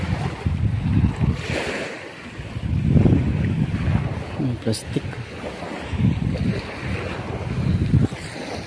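Waves wash steadily onto a Philippine seashore on a somewhat rough sea morning, with wind buffeting the microphone and a person talking over the surging surf.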